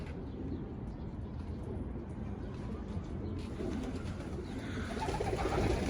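Soft pigeon coos murmur in the background amid a steady low rumble, faint and continuous with some rustling noise building toward the end.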